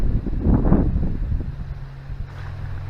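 Strong wind gusts across the River Adur bank while fishing by Betley Bridge, a low rumbling buffet on the microphone that swells early and then settles into a steadier hum.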